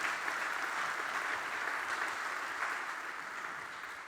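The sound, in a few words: congregation applauding for the Lord Jesus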